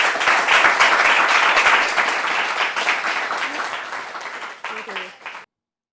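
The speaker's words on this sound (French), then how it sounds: "Est-ce qu'on peut les applaudir?" A room of parents at a meeting about raising a child with special needs applauds: loud, dense clapping that gradually thins out, with a few scattered claps and a faint voice near the end before it cuts off.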